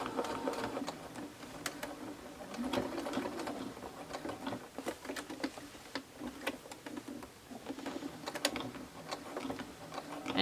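A sewing machine pushes slowly through thick, bulky stocking layers, giving a quiet, close, uneven run of ticking needle strokes and mechanical clicks that keeps going throughout.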